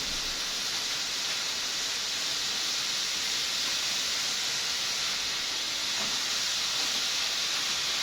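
Meat and onion fry in a pan, giving off a steady, even hiss of sizzling oil that continues unbroken throughout, with no talk over it.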